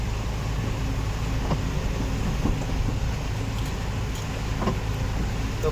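A car drives through heavy rain on the road from Meghalaya toward Arunachal, giving a steady, loud wash of road and rain noise with a few faint knocks, no voices.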